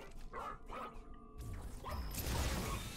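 A robot dog companion in the ReCore video game lets out a few short barks, followed by mechanical clanks and whooshing game effects.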